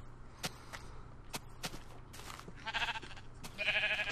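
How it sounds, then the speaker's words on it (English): Sheep bleat in Minecraft Xbox 360 Edition: two short, nasal bleats near the end, following a series of sharp clicks and soft steps in a quiet scene. "Get back here, sheep."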